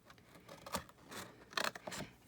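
Scissors cut through the cardboard of a Wheat Thins box, giving a few quiet, crisp snips and scrapes close by with short pauses between them.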